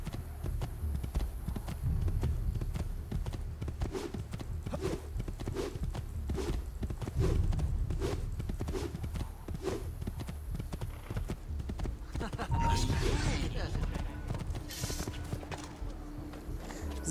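Horse hooves clip-clop steadily at a galloping pace as a rider travels in Assassin's Creed II, a rhythmic run of hoofbeats that continues for most of the stretch, with other game sounds rising near the end.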